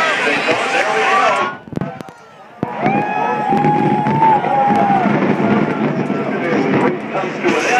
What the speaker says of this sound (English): we're going to shoot off the fireworks here momentarily